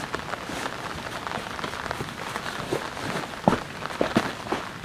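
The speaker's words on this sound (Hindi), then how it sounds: "लगातार बारिश हो रही है" Continuous rain falls on a campsite, a dense steady patter with scattered louder drips and taps close by.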